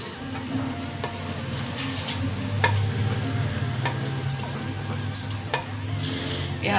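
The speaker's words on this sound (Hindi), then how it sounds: "तेल हमारा गरम हो चुका है, सबसे पहले हम प्याज डालेंगे" Onions go into hot oil for a tinday gosht curry, a loud, steady sizzle with intermittent stirring clatter and scrapes of a spoon against the pan.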